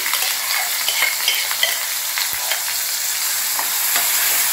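Boiled gongura leaves frying in oil with a tempering of curry leaves, a steady close sizzle broken by scraping stirs of a spatula against the pan.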